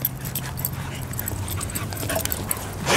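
A dog loose at a dog park, with steady whimpering and soft yips over a continuous outdoor rumble, fairly close and not very loud.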